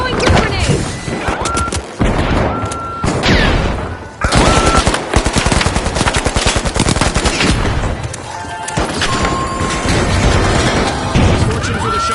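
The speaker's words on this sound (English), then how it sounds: "Throwing goo grenade." A goo grenade goes off amid chaotic combat in the online shooter The Finals, with loud bursts, crashes and rapid gunfire layered over a busy game soundtrack and announcer-style voice.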